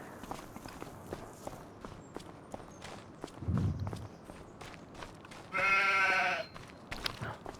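Sheep bleating in Farming Simulator 25, one loud, close bleat rising above steady footsteps on the ground, with a fainter low bleat earlier.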